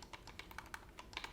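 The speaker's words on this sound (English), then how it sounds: "The left and right bumper are both nice and clicky." The bumper buttons on a Steam Deck handheld are pressed over and over, giving quick, faint, close clicks in a fast irregular run.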